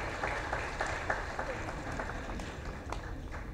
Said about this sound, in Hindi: तो मैं समझता हूँ अहमद शाह साहब के लिए दिल खोल के तालियां हमें बजा देनी चाहिए।